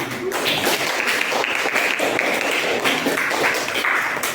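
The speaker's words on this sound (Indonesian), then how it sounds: "tepuk tangan dulu Nak" Students in a classroom clapping after a biology lesson on plant transport, a moderate, somewhat uneven patter of hands with taps and thuds mixed in, continuing throughout.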